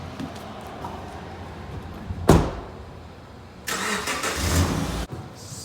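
A car's engine cranks and catches with a sharp burst, settles, then revs up loudly for over a second before cutting back, ending with a door-like thump.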